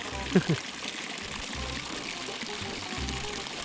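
Water draining out of a fish pond during a water change, a continuous pouring, trickling flow heard nearby with a voice speaking over it.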